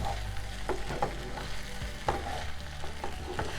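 Frozen jackfruit is stirred in a Granite Rock pan, a soft steady sizzle with a spatula scraping and tapping against the pan at irregular moments, close and alone.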